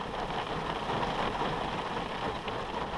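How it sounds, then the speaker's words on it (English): Steady rain falls in a continuous dense hiss, fairly close and even, with no voices, on a rural hunting property. "It's raining."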